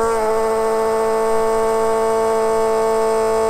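An aftermarket Holley Blue style electric fuel pump running in the boot of a Holden VH Commodore with a 355 stroker, giving a loud, steady, high-pitched whine that holds constant throughout with no talk.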